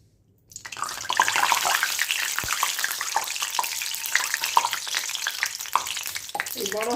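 About one and a half ladles of oil poured into a pan for aubergine kalaunji burst into loud, close sizzling and crackling after a brief silence, continuing densely to the end with small spits and pops.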